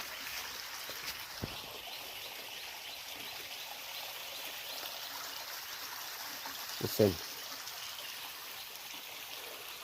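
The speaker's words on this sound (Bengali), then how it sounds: "কোনো শব্দ নাই খালি একটাই শব্দ পানির এই যে ঝর্ণার পানির শব্দ ভাই" Water from a forest waterfall flows in a quiet jungle, a soft continuous rushing wash heard faintly at a distance, with a brief louder knock near the end.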